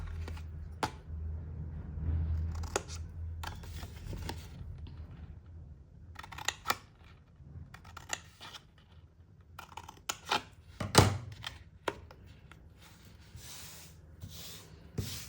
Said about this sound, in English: I'm going to free these tabs by cutting up till the score line